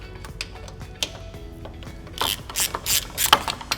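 Quick ratchet clicking while T45 bolts come off an Audi 8V A3 oil pan guard, close and crisp, a steady run of pawl ticks that grows busier and louder toward the end.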